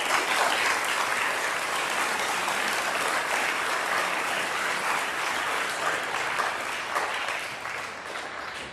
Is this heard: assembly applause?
yes